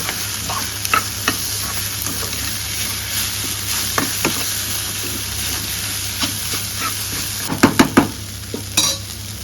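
Okra (bendakaya vepudu) frying with masala powder in a pan gives a steady sizzling hiss, with occasional scraping clicks of stirring, a quick cluster of knocks near the end, close and moderately loud; no talking.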